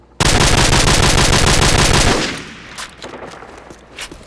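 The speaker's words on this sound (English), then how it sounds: "M14, probably my least favorite assault rifle" M14 assault rifle blind fire from the hip in Call of Duty 4: a loud, rapid stream of shots lasts about two seconds, then gives way to a fading tail and a few scattered clicks and thuds.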